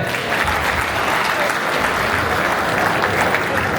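A crowd at an anniversary program in Özalp claps in sustained, dense applause, loud and even throughout with no break.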